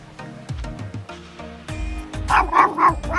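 A small dog at a Belarusian country dacha barks and yips repeatedly in quick bursts, close and loud, growing more insistent toward the end.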